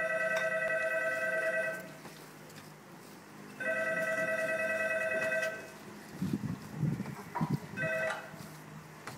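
A telephone rings in repeated bursts with silent gaps between them, clear and fairly close, and soft rustling and handling sounds follow the last rings.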